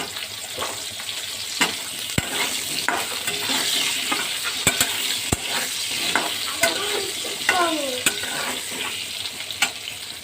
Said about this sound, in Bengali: আমি আলুটাকেও ভেজে নেবো ভালো করে।